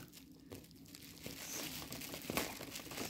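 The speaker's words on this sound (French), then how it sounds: "couper le ruban adhésif" Adhesive tape is cut and peeled off cardboard packaging for a 4K WiFi waterproof action camera. It comes through as soft crinkling and tearing with a few sharp rips, faint and close by, and there is no talk.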